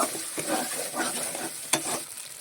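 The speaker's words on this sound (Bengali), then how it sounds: "এবার টক দইটা দিয়ে দেবো।" Sour yogurt stirred into a spice paste frying in oil in a pan, giving a soft sizzle with scraping stirs and one sharp clink, alone without talk.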